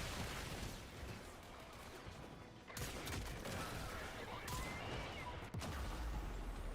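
Latum pistol gunfire in Warframe, faint, dense volleys of shots layered over busy combat noise, with a couple of louder cracks standing out.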